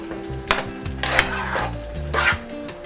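Masoor dal frying in a pan for tarka as it is stirred, steady sizzle under repeated scraping and rubbing strokes of a spoon against the pan, close and fairly loud with no voices.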